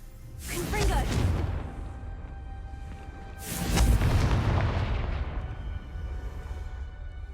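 The Confringo explosion spell in Hogwarts Legacy fires twice, each a sharp whooshing blast that blooms into a deep booming rumble and then trails off, the second louder than the first.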